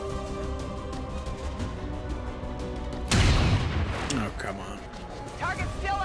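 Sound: sniper rifle shot in XCOM 2 video game

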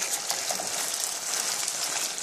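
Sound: stir-frying onions and chili in a pan

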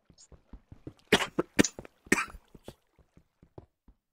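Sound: cough

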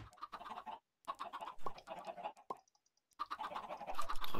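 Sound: chickens clucking in the video game Minecraft

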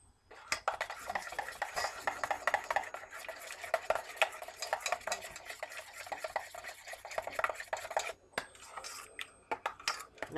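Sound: stirring a homemade deep conditioner mix in a bowl

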